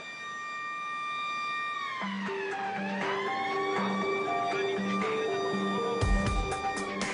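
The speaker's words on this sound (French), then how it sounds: "la sirène retentit toujours dans ses ateliers, où on continue à fabriquer de l'acier" A long steelworks factory siren wail announcing a steel pour at Le Creusot rises and falls, loud and sustained, over low background rumble and a few mechanical clanks near the end.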